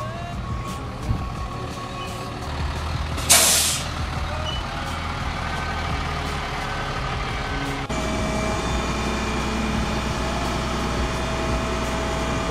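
A truck unloads at a track, its engine idling in a steady loud rumble while a sharp hiss of air brakes bursts out once, then the engine drone carries on without talk.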